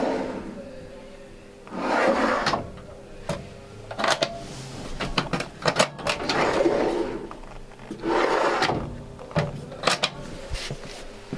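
Soft-closing kitchen drawers in a 2021 Dethleffs Pulse I 6811 EB motorhome, pulled out and pushed shut several times, giving repeated smooth sliding rushes ending in muted thumps, close and fairly loud.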